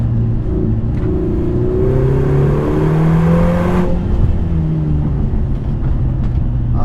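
A Lotus Emira with a 2.0 turbo engine accelerates hard on a winding road, a loud close engine note rising steadily in pitch with turbo whir, with no talk.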